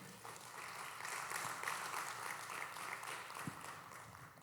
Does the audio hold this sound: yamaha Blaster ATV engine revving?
no